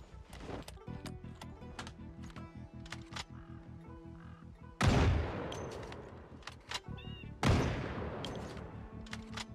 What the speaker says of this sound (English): I'm not even sure what I'm shooting at there.